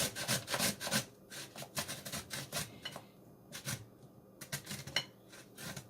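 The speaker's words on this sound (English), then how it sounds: "I've already started to prep the carrots using a grater" Three large carrots rubbed against a hand grater, a steady rasping scrape in short uneven strokes, close and clear with no talk.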